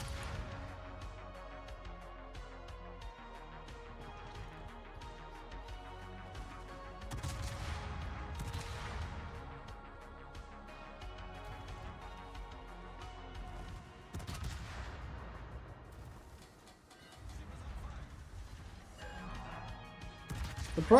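Naval guns firing high-explosive shells in the World of Warships video game, a few distant booming salvos spaced several seconds apart over quiet game ambience.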